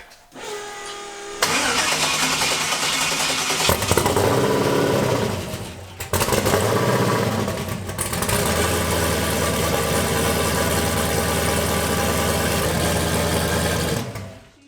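An LS-swapped Ford Mustang cranks briefly, fires up with a loud roar, stumbles and restarts, then settles into a steady, rumbling idle close by.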